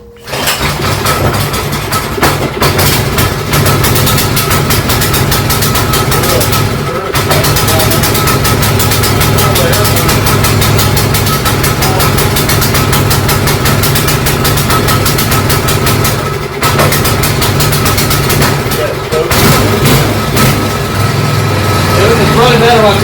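A small pull-start engine runs steadily with the choke on, a loud continuous idling drone with a rough vibrating tone, close by, while people talk over it and a few brief dips break the noise.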